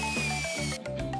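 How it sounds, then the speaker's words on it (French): Power drill whirring close up in a short, loud burst, its motor pitch dipping and shifting as it works against the wall during a frame mounting job. "La perceuse, c'est un outil formidable."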